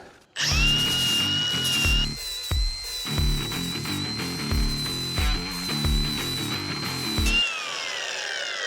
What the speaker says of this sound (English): So I'm gonna go ahead and sharpen this part right here, and we'll see if we see a few sparks fly.